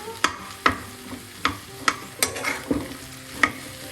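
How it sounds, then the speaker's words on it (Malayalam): Coriander and garam masala powder frying in oil for a potato and okra stir-fry, with a faint sizzle under a steady series of sharp spoon clinks as the pan is stirred, close and without talking. "അര ടീസ്പൂൺ മല്ലിപ്പൊടി അര ടീസ്പൂൺ ഗരം മസാലപ്പൊടി എല്ലാം കൂടെ ചേർത്തൊന്ന് ഈ ഓയിലൊന്ന് മൂപ്പിക്കാം"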